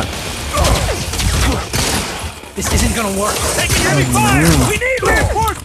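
Gunfire and clattering mechanical effects from the shooter game Modern Combat 4: Zero Hour, loud bursts mixed with other game sounds and tonal effects, with a voice talking excitedly over parts of it.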